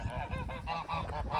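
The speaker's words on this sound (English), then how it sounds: "the geese are finally quieting down, maybe" Geese honking loudly and close in a quick, overlapping burst of several harsh calls, with no other sounds.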